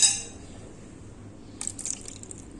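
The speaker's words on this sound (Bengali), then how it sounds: "দিয়ে আমি 1/2 কাপ পানি দিয়ে দিব।" Half a cup of water is poured into a cooking pot of fish, a faint, brief splashing pour with a few trickling bursts, heard close up against a quiet room.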